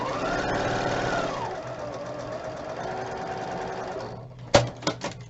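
A sewing machine runs a seam on a quilt block, a steady close whirring stitch that slows and fades, then ends with a few sharp clicks from back stitching.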